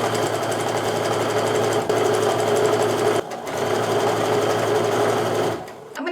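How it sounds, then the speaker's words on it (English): Sewing machine running steadily while stitching quarter-inch seams along quilt strips, a continuous close mechanical whir with two brief pauses and a slowdown at the end. "I'm just going to repeat as I go down this strip sewing my 1/4 inch seams."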